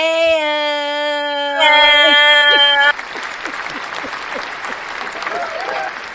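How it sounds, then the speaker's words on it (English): A sustained, harmonically rich tone holds for a few seconds, then gives way to a round of crowd applause with dense, steady clapping that continues to the end. "And she get the round of applause, baby."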